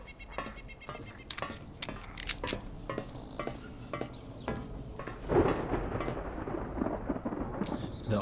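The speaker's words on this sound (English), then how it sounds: "The ominous thunderclap." Thunder in the video game DayZ just after rain, a low rumbling roll swelling near the end over a faint, crackling background of game sounds.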